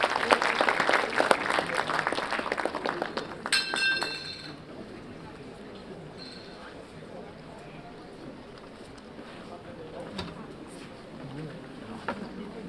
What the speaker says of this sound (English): Can we have a round of applause for him, please?